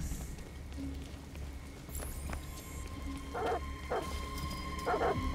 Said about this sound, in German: Okay, Hunde. Echte Hunde.